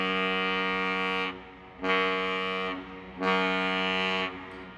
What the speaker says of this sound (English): A lot of people just like listening to the horn as it is sounded loud right when you're standing here